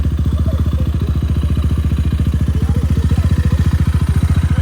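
A Rusi 250i motorcycle engine idles steadily up close, its rapid, even low-pitched thumping pulses repeating without pause and no voices over it.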